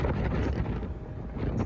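Strong wind buffeting the microphone by the Shannon river in Ireland, a constant loud low rumble and roar with no other sounds.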